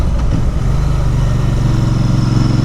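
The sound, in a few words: Interlayan 650 motorcycle aftermarket exhaust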